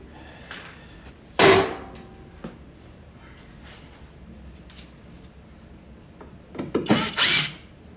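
A power drill backs drywall screws out of an arcade game board in two loud whirring bursts, each followed by rattling and clattering, with quiet handling noise in between.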